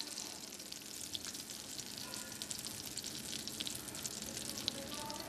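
Butter melting in a saucepan gives off a faint, steady crackling sizzle with fine, irregular pops throughout.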